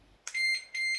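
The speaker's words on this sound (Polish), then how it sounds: "uzbroiliśmy sobie zdalnie nasz alarm" Home alarm system chirping as it is armed by remote: two loud, high electronic beeps in quick succession, close and clear, with no talking.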